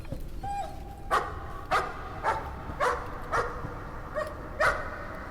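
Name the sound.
dog barking in video game Layers of Fear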